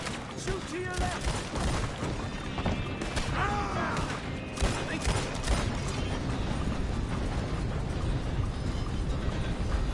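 Repeated gunshots and bursts of fire in the western action game Red Dead Redemption 2 ring out through a busy, noisy scene, with game characters talking over the shooting throughout.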